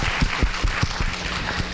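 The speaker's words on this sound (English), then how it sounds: "A big round of applause." Audience applause at a Chinese American physicians' medical symposium on hepatitis B treatment, heard as a short, steady burst of clapping from a room full of listeners.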